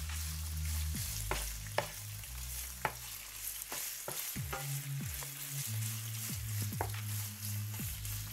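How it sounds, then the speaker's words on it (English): Meat for Filipino bam-i, salted and cooking in its own rendered oil, gives a steady, even sizzle with occasional light utensil clinks. A low hum runs underneath, and no one talks. "So we'll give this probably about 5 minutes to cook up in its own oil"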